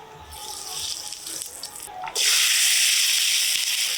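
Asafoetida dropped into hot mustard oil in a wok gives a sudden loud sizzle about halfway through, after a quieter stretch of hiss, and the steady hiss then continues to the end.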